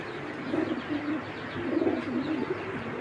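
Racing pigeons cooing close by in repeated soft, throaty rolling coos over a low background hum, with no talk.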